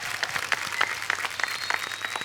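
Studio audience applause on The Kapil Sharma Show during a Sony 25th anniversary celebration, a dense burst of clapping that swells in waves and carries steadily throughout.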